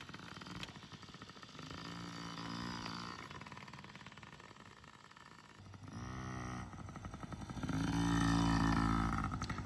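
A child rides a Yamaha PW50 dirt bike around a backyard, its small two-stroke engine buzzing and rising in pitch as the throttle opens, growing loudest near the end.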